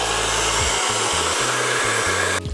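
A hair dryer blows loud and steady at close range over a reddish-brown curly wig, then cuts off abruptly near the end.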